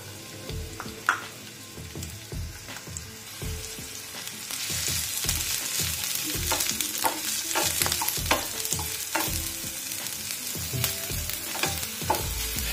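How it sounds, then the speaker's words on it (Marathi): Sliced onion frying in a little oil for a tava pizza topping, a close sizzle with repeated scraping stir strokes that grows louder and denser partway through. "तर त्यासाठी थोडंसं तेल घ्यायचे, कांदा टाकायचा आहे, आपण काप केलेले कांद्याचे।"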